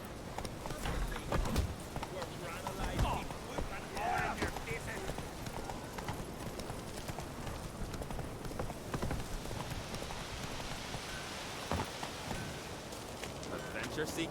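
Roach, a horse in The Witcher 3: Wild Hunt, gallops with a fast continuous drum of hooves under wind and game ambience, and voices speak over it.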